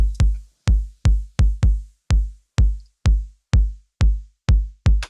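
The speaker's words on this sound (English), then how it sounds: "The kick is from the Electron analog rhythm." Deep, punchy kick drum from an Elektron Analog Rhythm drum machine thumps alone at a steady pace, about two per second, each with a sharp click and a short booming tail.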